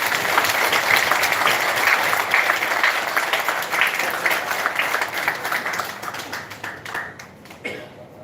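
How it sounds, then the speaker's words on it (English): An audience at a bioethics lecture session breaks into dense, sustained applause that holds steady and then gradually thins out toward the end. "He required a great claps from our side."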